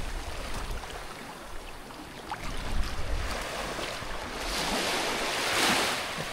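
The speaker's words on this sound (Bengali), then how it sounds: "খুব সুন্দর দেখতে বিচটা, একদম লোকজন নেই, নিরিবিলি।" Waves washing onto quiet, empty Chidiya Tapu beach in the Andaman Islands, a soft, continuous surf with gusts of wind buffeting the microphone and rising slightly toward the end.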